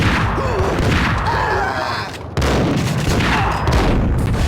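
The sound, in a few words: gunfire in Max Payne video game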